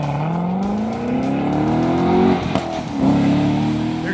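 A 2014 Chevrolet Corvette C7 Stingray with sports exhaust roars close by, its engine note climbing under hard acceleration, briefly dipping at a shift, then pulling up again, loud and continuous throughout.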